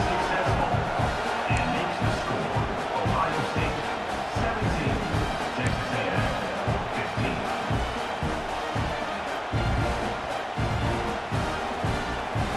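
Stadium crowd in EA Sports College Football 26 keeps up a steady, dense roar with rhythmic thumping, heard continuously under a commentator's talk.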